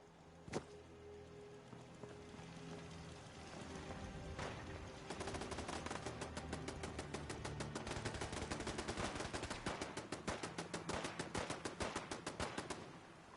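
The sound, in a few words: turret firing in the video game Fallout 4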